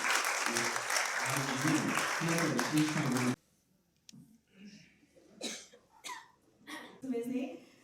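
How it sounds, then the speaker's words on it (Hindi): Loud, dense applause from a crowd fills the first few seconds, then stops abruptly, leaving a few coughs and quiet murmuring in a room. "तो उनका भी हम तालियों से सम्मान करते हैं।"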